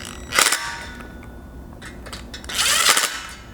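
Roof rack crossbar bolts on a 2022 Toyota Tundra being tightened with a 5/32 hex key, two bursts of close clicking and ratcheting about two seconds apart, separated by quieter handling noises.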